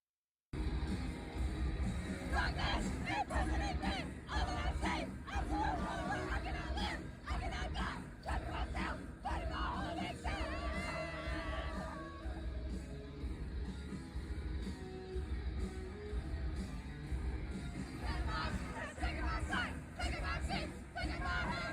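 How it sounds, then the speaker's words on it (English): A large crowd at a concert screams and cheers steadily, loud and dense throughout, with yells and the band's rumble mixed in. "I'm jumping up and down and screaming"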